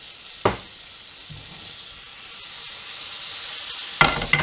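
Vegetables seasoned with salt and pepper hit a hot pan, giving a sharp sizzle burst, then a soft steady hiss that swells gradually before another loud crackle as more go in, no talk.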